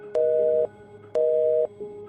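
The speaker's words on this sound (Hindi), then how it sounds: "अरे फोन काट दिया इसने।" A telephone busy tone sounds after a call is hung up: two steady, moderately quiet beeps with short gaps, and the start of a third.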